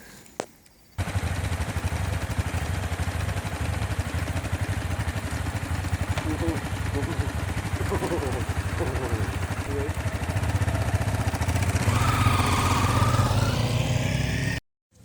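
Loaded touring motorcycles, packed with camping gear, idling and pulling away on a ride, a steady rumbling engine note that builds louder and rougher toward the end, with a brief thump at the start.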